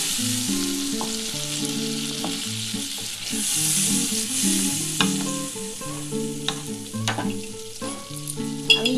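Mustard gravy for parshe fish bubbles and sizzles steadily in a pan. Occasional stirring clinks and scrapes sound close by, with no speech.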